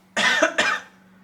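Two harsh, rough coughs in quick succession from a person under the weather with a sore throat, loud and close, each a brief raspy burst over a low electrical hum.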